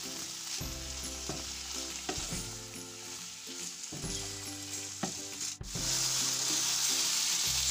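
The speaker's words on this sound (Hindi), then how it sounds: "प्याज को मैंने 1 मिनट के लिए ऑयल में फ्राई किए, अब मैं इसमें डाल रही हूँ चिकन।" Chicken pieces drop into onions frying in hot oil, setting off a bright, steady sizzle, with repeated clinking and scraping of a spoon stirring the pan nearby. Near the end the hiss swells louder.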